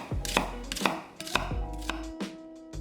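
A kitchen knife slices a quarter onion into half-centimetre pieces on a cutting board, giving five or six crisp, evenly spaced chops close by with no talking.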